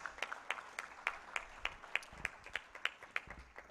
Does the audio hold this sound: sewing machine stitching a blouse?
no